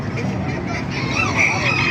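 Many chickens cluck and crow together in a noisy crowd at a market in Baliuag, Bulacan, Philippines, busy and close, with shouts and market bustle mixed in.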